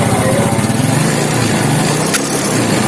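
A motorcycle engine runs steadily and loud at idle throughout, a continuous buzzing drone at close range during a battery charging-system check, with no talking over it.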